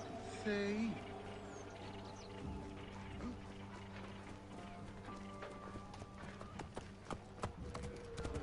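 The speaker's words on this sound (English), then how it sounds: "We need a horse." Horse hoofbeats in Assassin's Creed Origins clatter in a quick galloping rhythm under a layer of game music and ambient noise, with a brief whinny-like tone near the start.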